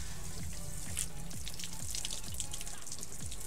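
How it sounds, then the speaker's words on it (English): Water poured in a steady stream onto a surface coated with a car topcoat, a quiet, continuous splashing and trickling with faint drips, heard alone without talk. "we're just going to try a steady stream of water instead of a spray hose"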